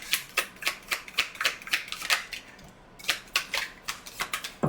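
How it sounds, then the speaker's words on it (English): A deck of tarot cards is shuffled in quick riffling bursts, a rapid series of crisp flicks close to the listener. A short pause comes midway before the flicking resumes, and nothing else is heard. "I'm just going to do one shuffle"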